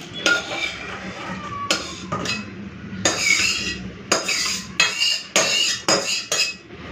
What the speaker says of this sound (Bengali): এই যে মাছের ঝোল হয়ে গেছে, ঢেলে নিই।